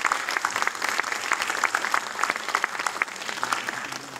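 A crowd at a book premiere conference claps continuously, a dense, even patter of hands from a large audience heard at some distance.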